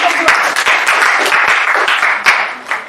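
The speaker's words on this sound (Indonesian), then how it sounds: "Tepuk tangan untuk kelompok" A classroom claps for a student group during a microteaching lesson, with brisk, fairly loud applause from a small group, individual claps distinct over a steady patter that fades toward the end.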